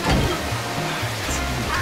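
Steady broadband rush of a waterfall in Super Mario 3D World, loud and continuous, with game music tones and faint low voice-like sounds underneath.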